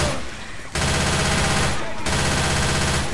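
Sustained automatic gunfire pours into a Tank in a modded Left 4 Dead 2 match, loud and continuous, with a short lull before the shooting resumes at full intensity.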